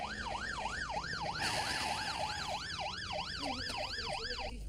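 An ambulance siren wails in a fast, regular up-and-down sweep, loud and near over road and engine noise.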